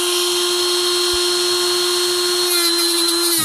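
Power drill spinning a polishing tool loaded with wax-based compound against the ball tubes of a Ford 6.0L high-pressure oil rail, a steady close whine holding one pitch throughout with no talk.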